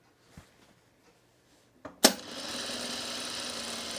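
Sewing machine stitching a quilt block, starting with a sharp clunk after a few faint taps, then running in a steady close whirring buzz.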